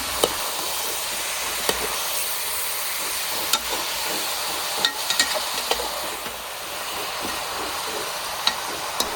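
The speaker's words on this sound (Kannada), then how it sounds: "ಹಾಗೆ ಸ್ವಲ್ಪ ಅರಿಶಿನ ಸೇರಿಸಿ ಒಂದು ಸಲ ಚೆನ್ನಾಗಿ ಮಿಕ್ಸ್ ಮಾಡಿಕೊಳ್ಳಿ" Country chicken pieces with salt and turmeric are stirred in a pot, a steady soft sizzle broken by intermittent clicks and scrapes of the spoon, with no talking.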